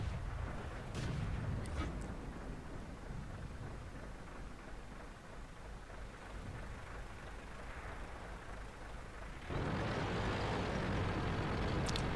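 Tank cannon fire from a Centurion and IS-3 battle in a tank video game, heavy booms and rumbling blasts at a steady loud level, with a sharper burst of noise near the end and no talk.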